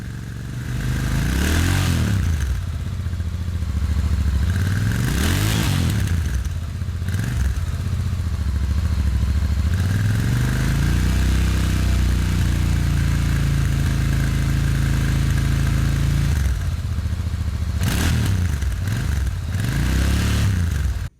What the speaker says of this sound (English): The way the engine gargles and smothers, the sound is just music to the ears